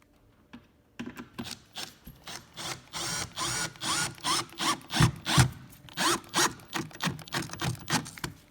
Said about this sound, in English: then send the screws in because they're going to find the hole beneath them